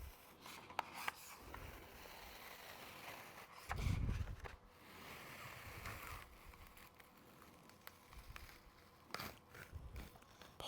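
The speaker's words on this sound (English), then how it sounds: "peel the corner back." Cricut vinyl is peeled slowly off its plastic carrier sheet, giving a quiet, continuous rubbing crackle with a few sharper ticks and one louder tearing burst partway through.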